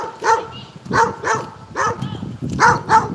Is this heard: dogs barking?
yes